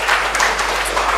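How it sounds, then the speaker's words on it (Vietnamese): Church congregation at a Protestant service applauding in thanks, a dense, loud wash of clapping filling a brief moment. "Hãy vỗ tay cảm tạ Đức Chúa Trời"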